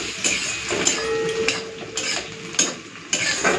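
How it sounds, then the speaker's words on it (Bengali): Onions fry in a pan in a home kitchen, a broad sizzling hiss broken by five or six sharp metallic clanks and scrapes of a stirring spoon against the pan, with no talking. "ভাজা ভাজা করে নিচ্ছি।"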